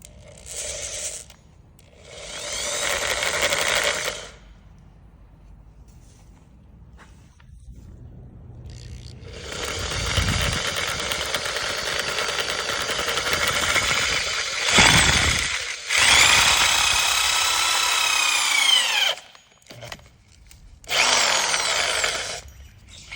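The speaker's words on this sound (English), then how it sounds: "first thing, I'm gonna use the drill." Power drill boring a cylinder head bolt hole on a Kia/Hyundai 3.3 engine being repaired for an oil leak, heard as several long, loud whining drill runs separated by short pauses and brief ratcheting clicks, close and alone.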